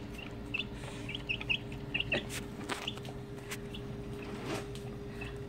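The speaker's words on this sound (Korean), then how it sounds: "꼬꼬야, 빨리 나와." A chicken gives soft, scattered clucks at moderate distance in a rural yard, with a few short bursts of clucking over a low, steady background hum.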